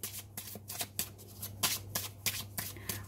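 Tarot cards being shuffled by hand in quick, repeated riffling bursts of papery flutter, close and fairly loud over a steady low hum, with no talking.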